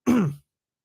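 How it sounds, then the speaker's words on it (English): One brief, low throat clear, a quick rough grunt-like rasp that stops abruptly into silence. "I apologize for constantly clearing my throat"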